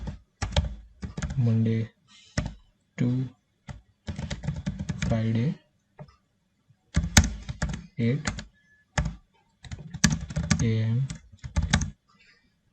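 Rapid clattering keystrokes on a computer keyboard while entering text for a college website page, coming in bursts between pauses and running under steady talk by a nearby speaker.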